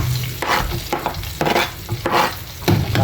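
Garlic sizzles in melted butter in a pot for garlic butter shrimp, a loud continuous frying hiss broken by repeated bursts of stirring and scraping, close and alone.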